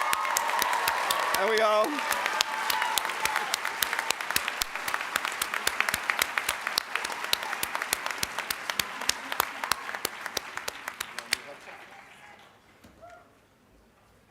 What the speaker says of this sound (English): I'd ask that you all clap now